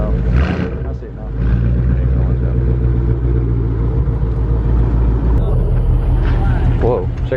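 A Ford Mustang GT (S550) with a Borla Atak exhaust rumbles loudly from a cold start, its deep steady drone filling the clip with a brief dip early on while people talk over it.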